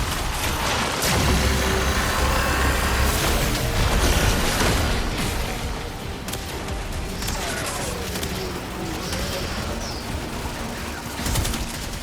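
Slash-damage gun firing in the video game Warframe amid a busy, dense mix of rapid shots, impacts and bursts, loud and continuous with other combat effects layered in.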